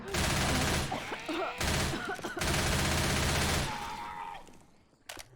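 Rapid automatic gunfire bursts in Left 4 Dead 2 on Xbox 360, two loud sustained volleys with brief pauses between them, then a fading tail and a single late shot.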